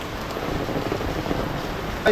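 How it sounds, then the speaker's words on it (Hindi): Heavy rain pours steadily during a stormy downpour, a dense continuous hiss close by with a brief louder burst near the end. "इतना ज़ोर से बारिश हो रहा है"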